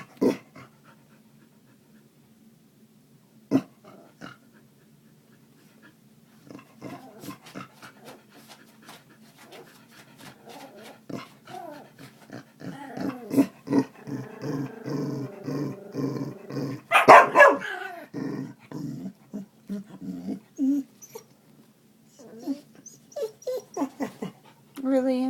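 A dog growls, pants and breaks into loud, repeated barks that build toward the middle, with a person speaking to it between the outbursts.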